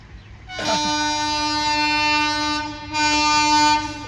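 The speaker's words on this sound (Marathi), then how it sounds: "ट्रेन फास्ट आहे." A fast train, likely a container freight train, sounds its loud sustained horn in two long blasts while passing close by, with a rumbling rail noise underneath.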